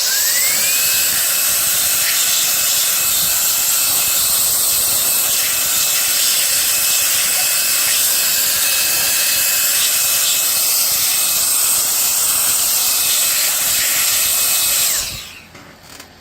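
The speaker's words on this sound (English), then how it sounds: "gonna try out my new duster here" An electric air duster blows dust out of a SIIG 9-in-1 USB card reader and floppy drive unit, making a loud, steady high-pitched whine with a hissing rush of air that runs continuously, then cuts off abruptly near the end.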